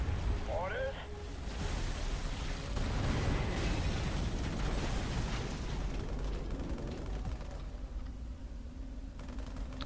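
Carpet bombing in the Halo Wars strategy game brings a run of dense, rumbling explosions and bursts that roll on for several seconds, with a brief synthetic voice line near the start.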